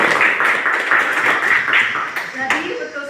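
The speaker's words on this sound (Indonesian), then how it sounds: "Oke, tepuk tangan dulu." Students clapping together in a classroom, a brief burst of dense applause-like patter with voices mixed in, moderately loud and close.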